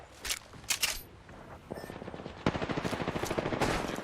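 Automatic weapon fire in the video game Apex rattles out in rapid, dense bursts that grow louder and steadier toward the end. The shots are close and punchy, and no voices are heard.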